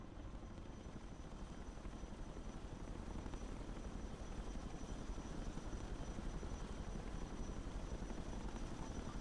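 Chinook helicopter in the video game Broken Arrow, a steady dense rotor thrum and engine drone holding loud and unbroken throughout.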